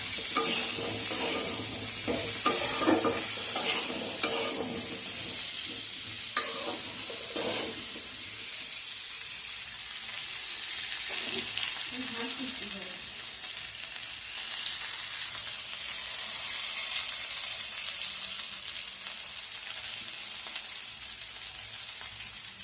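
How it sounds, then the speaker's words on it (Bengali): Jhinge, potato and poppy seed curry with turmeric being stirred in a pan, giving a steady close scraping and soft sizzling that continues without pause and without voices. "আবারও আমি এটাকে ভালো করে নাড়াচাড়া করে দিচ্ছি"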